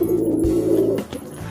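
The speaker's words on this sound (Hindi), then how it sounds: "ये कबूतर गुटकता बहुत ज़्यादा है छत पे" A rooftop pigeon coos in a low, steady, throaty run that holds for about a second, then breaks off into softer rustling, close by.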